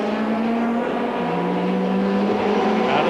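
BTCC touring race cars, including 2-litre 4-cylinder 16-valve cars of about 300 horsepower, race out of Goddard with a steady, loud, continuous engine roar and rising revs from several cars close by.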